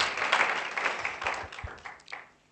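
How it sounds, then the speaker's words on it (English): A crowd at a graduation ceremony applauds with dense clapping that swells briefly and then fades out, no talking over it. "Can I ask you to give me a round of applause again?"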